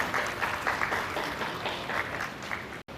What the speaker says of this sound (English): please, everyone, welcome them with a big round of applause